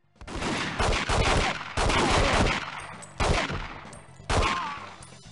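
Gunfire in 007: The World Is Not Enough, aimed at an enemy: four loud bursts of rapid shots, each ringing out and fading before the next, with no talking.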